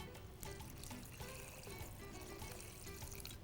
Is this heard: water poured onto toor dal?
yes